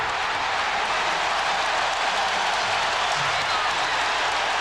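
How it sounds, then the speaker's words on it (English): Roaring arena crowd at Game 7 of the 1998 NBA Eastern Conference Finals between the Bulls and Pacers, a dense, steady wall of cheering and applause that stays loud and continuous throughout. "And that gets the crowd back into it."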